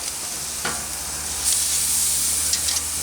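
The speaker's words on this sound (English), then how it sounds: "Just want to get a little bit of a sear." Sous vide pork tenderloin sears on a hot grill, a loud close sizzle and hiss that swells after a brief pause, with a few sharp crackles.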